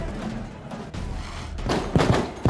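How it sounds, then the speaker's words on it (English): Fireworks fired inside a building during a protest, giving sharp bangs near the end that stand out over a steady, noisy crowd background. "Firing fireworks inside the building."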